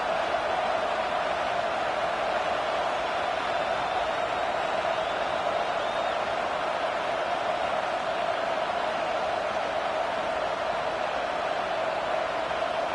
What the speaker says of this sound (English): And wow, listen to this crowd.